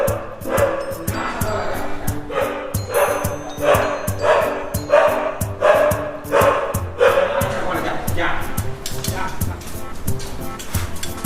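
A small female dog barks at home, a long run of loud, evenly spaced barks that repeat for several seconds and then grow looser and quieter.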